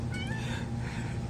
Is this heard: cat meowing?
yes